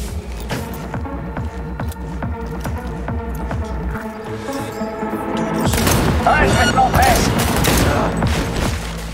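Rapid gunfire in the Cyberpunk 2077 video game, a sustained burst of repeated shots with heavier booms swelling in the second half, loud and close, with someone talking over it.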